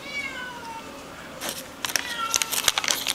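Several cats meow at an animal rescue shelter in Bedford, New Hampshire, with a drawn-out meow at first, then louder, overlapping meows and some crackling noise later, fairly close.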